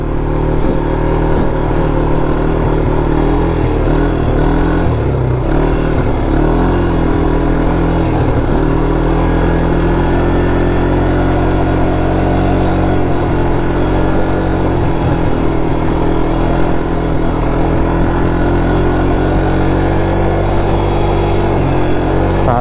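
A Bajaj Pulsar NS200 motorcycle engine on an off-road track, a loud continuous close-up drone with a steady buzzing tone and slight shifts in revs throughout, filling the whole stretch with no pauses.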